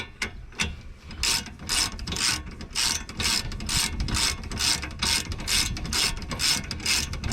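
Ratchet wrench tightening brake bolts on a 2014 Dodge Charger SXT, a fast run of close, crisp clicking strokes repeating steadily for several seconds with brief pauses between pulls.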